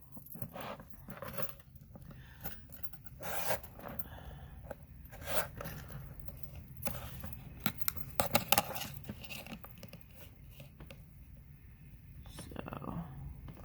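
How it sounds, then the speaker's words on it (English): Quilting fabric pieces for a star block are trimmed on a cutting surface, giving faint, scattered snips and slices mixed with soft handling noises and quiet talk nearby. "So we're going to trim all these down."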